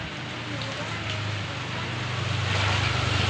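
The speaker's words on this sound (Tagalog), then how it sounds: "Ah, naliligo habang umuulan." Heavy rain falls in a dense, continuous hiss that grows slightly louder toward the end, with a low engine-like hum beneath it.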